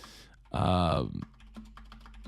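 Short bursts of close typing clatter on a computer keyboard follow a brief loud non-speech noise, with scattered keystrokes continuing afterward.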